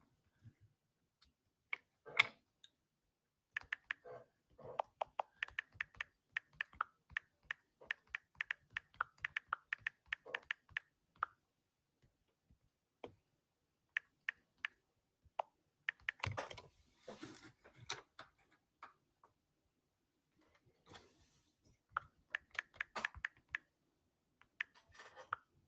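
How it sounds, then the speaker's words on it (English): A computer keyboard clicks in quick irregular bursts of typing, the sharp close-up keystrokes separated by pauses of near silence. "Can you guys hear the clicking?"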